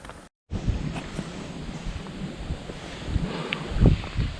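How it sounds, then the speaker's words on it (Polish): Strong wind buffeting an outdoor microphone, a rumbling, gusty roar that cuts out briefly near the start, then returns and holds with uneven surges. "Wiatr już taki napierdala, że to nie ma najmniejszego sensu."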